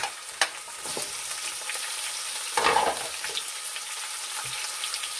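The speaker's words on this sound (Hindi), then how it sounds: "अब इसमें शामिल करेंगे हम अपना चिकन, उसको हल्का सा फ्राई करेंगे" Chicken pieces frying in a hot pan with whole spices, a steady broad sizzle running throughout with a few sharp pops and a louder burst of crackling midway, no talking.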